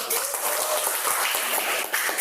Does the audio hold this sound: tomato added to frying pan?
no